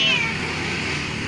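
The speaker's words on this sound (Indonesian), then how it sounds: "Tuh kucingnya lagi nyari makan" A hungry pregnant cat searching for food lets out a single short, close meow, then a soft murmuring background for the rest of the moment.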